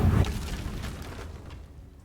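A Confringo spell goes off in the video game Hogwarts Legacy, giving a loud low boom right at the start that fades into a rumbling, diminishing tail over about two seconds.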